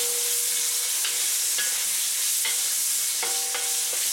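Chicken hearts and gizzards stir-frying in a pan with black pepper, a loud close sizzle running throughout, broken by several sharp utensil scrapes and clinks as the pieces are tossed, no voices.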